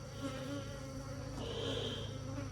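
Honeybees buzzing at a hive, a steady close droning hum from many insects, continuous and moderately loud with no talking.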